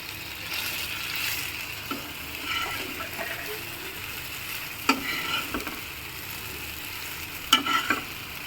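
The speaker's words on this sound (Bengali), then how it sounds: "এবার আমি এই মাছের মধ্যে মাছগুলো একে একে ছেড়ে দেব।" Pre-fried catla fish pieces going one by one into a pan for a yogurt-based fish curry: a soft, steady sizzle with a few distinct clinks and splashes as pieces drop in.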